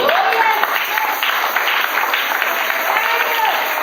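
A church congregation applauds and cheers for the Lord, a dense, even wash of clapping that is loud and continuous throughout, with faint voices mixed into the crowd noise.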